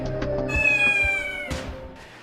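Kittens meow in a series of loud, close, drawn-out cries, one following another with little pause.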